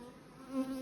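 Bees droning in an apiary, a steady low hum throughout with a slightly louder swell near the middle, close and continuous with no talk.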